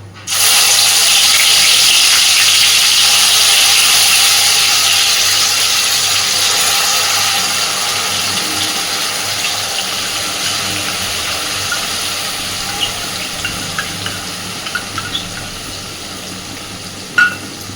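Ground spice paste for chicken curry sizzling and frying in hot oil in a pan with cinnamon, a steady loud hiss that persists throughout and fades slightly toward the end, with a few faint clinks.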